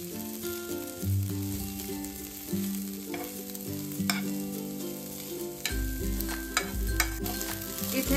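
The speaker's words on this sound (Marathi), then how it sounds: "आता ना तुपावरती पोहे आपण छान असे परतून घेऊया।" Soaked poha sautéed in ghee in a pan for milk poha sizzles quietly under steady stirring, with light scraping and occasional clinks of the spoon. Soft background music plays throughout, and no one speaks.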